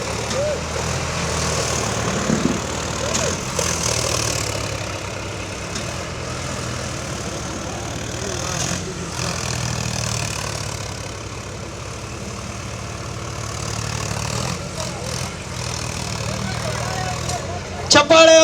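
Tractor engines rumble and idle steadily at a farmers' tractor show in Anekal, a low continuous drone with occasional surges, heard beneath ongoing voices.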